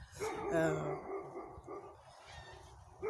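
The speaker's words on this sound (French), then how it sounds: "C'est peut-être pour ça que le chien s'énerve" An agitated dog gives a few quick, fairly faint barks and yips close together at the start, then quieter whimpering sounds follow in a calm indoor setting.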